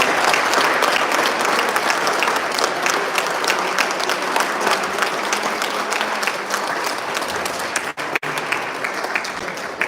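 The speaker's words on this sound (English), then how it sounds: "Please join me in applauding as they join us on stage." An audience at a teachers of the year announcement ceremony in Maine applauds steadily and loudly, a dense wash of many hands clapping throughout that briefly dips near the end.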